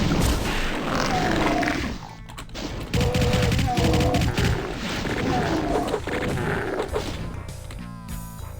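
Double-barrel shotgun blasts from the game Doom in a custom map, heavy booming shots repeating amid dense gunfire, impacts and grunting monsters, loud and continuous throughout.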